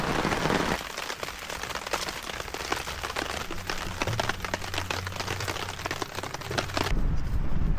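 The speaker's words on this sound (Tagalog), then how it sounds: "Medyo malakas-lakas ang ulan." Heavy rain pours steadily onto a campsite canopy amid strong wind, a dense continuous patter with a low rumble underneath, loud and close throughout.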